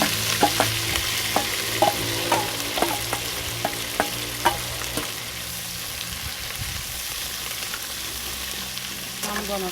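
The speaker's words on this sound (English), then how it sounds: "I'm gonna saute the seasoning until translucent." Seasoning sizzles in hot oil in a pan for Jamaican brown stew fish, a loud steady fry with scattered scraping stirs and clinks, heard close with no talking.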